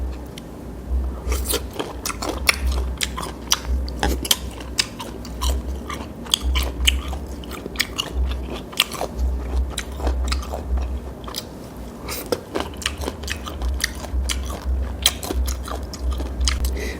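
Someone eats crunchy green mango with a chili salt dip, producing a continuous run of close, crisp bites and chewing crunches with irregular sharp snaps, no talking heard.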